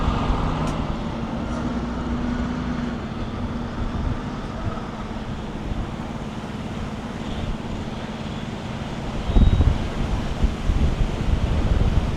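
Strong wind buffeting the microphone in a constant low roar, with a louder gust near the end and a vehicle rumbling faintly underneath.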